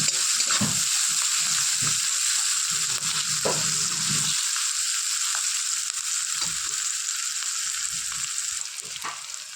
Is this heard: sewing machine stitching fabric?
no